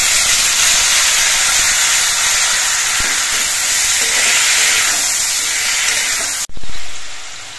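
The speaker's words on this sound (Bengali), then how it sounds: "টমেটো গুলো দিয়ে দিচ্ছি।" Tomatoes hit hot oil already fragrant with fried dry red chillies and five-spice seeds, giving a loud, steady hiss that holds without a break and then cuts off sharply near the end before swelling briefly again.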